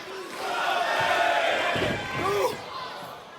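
Arena crowd at a Maple Leaf Pro wrestling match swelling into sustained cheers and shouts after a lariat and Thesz press, a broad roar rising and falling over a few seconds with some louder yells near the end.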